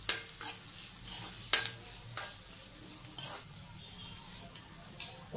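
Poha upma with turmeric being stirred in a pan, a spoon scraping and clinking in irregular strokes over a soft background sizzle, with a few sharper metallic taps, close and fairly quiet.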